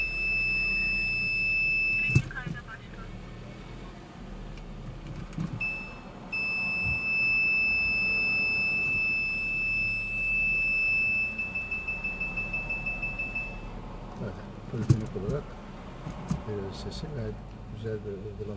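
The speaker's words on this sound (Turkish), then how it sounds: "aracıma arka tampona sesli park sensör uygulaması yaptık" Rear parking sensor fitted to the back bumper of a Kia Sportage emits a steady polyphonic tone, then a fast run of short beeps, with an engine idling and a voice talking underneath.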